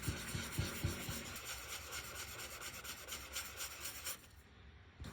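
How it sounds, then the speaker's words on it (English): Close, steady rubbing and scraping of a sanding block over patent leather, with rhythmic strokes at first that smooth into continuous abrasion before easing off near the end. "when I press and I'm sanding, it's flexible"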